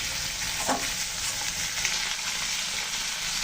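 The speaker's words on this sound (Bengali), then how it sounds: "এই ছোটো মাছ যেহেতু খুব বেশি ভাজবো না, হালকা ভাজা দিয়ে" Small desi puti fish fry lightly in a pan with a close, continuous crackling sizzle and a brief stirring scrape, with no voices.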